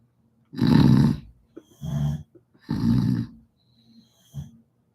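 A sleeping dog snoring in loud, rough, rasping breaths, three or four drawn-out snores in a slow rhythm, close to the microphone with quiet gaps between.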